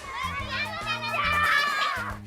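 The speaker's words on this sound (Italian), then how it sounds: "Ma ecco i bambini che attendavamo. Sono già arrivati, si sente, che vengono a visitare la villa con la scuola." A crowd of schoolchildren arriving on a school visit to a Palladian villa in Veneto, their overlapping chatter and shouts filling the space as a steady, lively babble close by.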